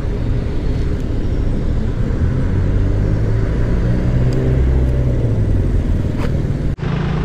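Steady, loud, close traffic rumble in San Juan, Metro Manila, heard from a motorcycle, with continuous engine drone and no break until a brief dip near the end.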